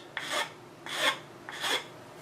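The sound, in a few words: rasping wood to round and bevel a chair part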